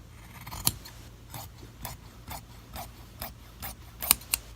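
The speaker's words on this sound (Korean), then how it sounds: "그러면 시접을 똑바지로 같이 잘라 보세요." Scissors snip through the seam allowance of a coat sleeve in a clothing alteration, about a dozen crisp close cuts in an uneven rhythm over a faint steady hum, with no talk.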